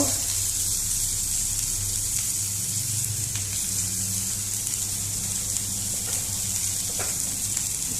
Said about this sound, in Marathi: आता भितर हो पळय कांदो घालपाचो